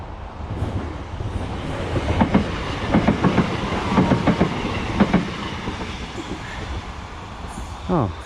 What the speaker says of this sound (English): it looks like there's a train coming.